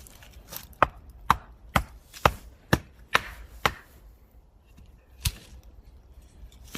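A Böker Plus Mini Tracker knife carves a notch into a piece of wood, producing about eight sharp, crisp cutting knocks in an uneven rhythm, with a brief pause before the last one; close and fairly quiet, with no talking.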